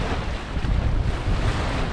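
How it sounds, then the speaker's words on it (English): Strong offshore wind of about 20 knots gusting higher roars across a sailboat with a flag whipping, a dense, loud wash of wind and waves with constant buffeting and no clear flaps. "See the flag whipping. Flags usually do that at about 20 knots."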